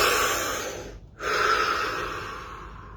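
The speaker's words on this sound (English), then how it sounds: "Deep breath." A single deep breath, a long close inhalation with a short pause and then a steady exhale, heard alone without talking.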